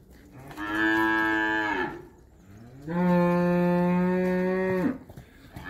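Girolando dairy cows lowing twice on a farm near Ribeirão Preto, São Paulo, two long, loud, harmonic moos close by, the second deeper, with a short quiet gap between them and no talk.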